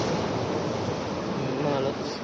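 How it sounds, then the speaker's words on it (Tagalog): Sea waves wash at night during fishing in a continuous, fairly loud surf-like rush mixed with wind noise over the microphone. "Kasi, kung napapakinggan ko yung alon"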